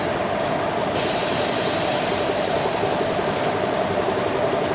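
A WAF4 electric locomotive running in Indian Train Simulator on the Kolkata–Mumbai Kurla Express route, a steady rumbling drone of motors and rolling wheels with a faint high whine entering partway, continuous and even, without speech.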